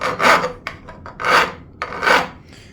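Rasping file strokes bevel the fret ends on a bass guitar: three long, loud, gritty passes come in an even rhythm, with short scrapes and taps between them, all close up and with no talking.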